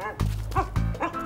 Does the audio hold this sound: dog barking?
yes